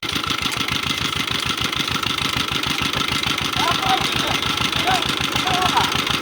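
A Peter engine driving a farm water pump in a rice field runs at a steady, low, thudding rhythmic chug, loud and continuous throughout.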